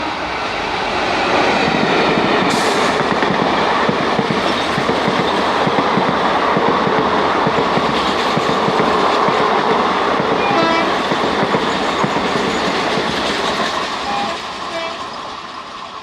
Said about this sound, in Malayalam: ഇപ്പോൾ പോയതാണ് നമ്മളെ പുനലൂർ കന്യാകുമാരി പാസഞ്ചർ.